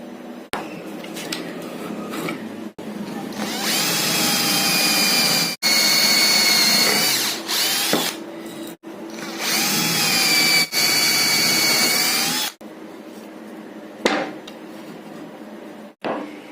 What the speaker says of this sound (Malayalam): ഈ പലകയുടെ കഷ്ണത്തിൽ ഓരോന്നിലും ഓരോ 10 സെൻറ്റിമീറ്റർ ഗ്യാപ്പ് വീതം വിട്ട് ഓരോ ഹോളുകൾ ഇട്ട് കൊടുക്കണം